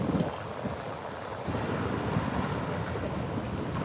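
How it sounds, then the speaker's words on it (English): Choppy ocean waves off the Philippines wash and churn continuously with steady surf noise and wind buffeting the microphone, a broad constant roar with no talking. "It's choppier now. You can see the waves."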